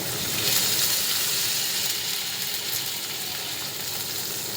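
Oil sizzles steadily in a pan of frying onions and green chilies, a continuous hiss of bubbling fat heard close up, without any voices.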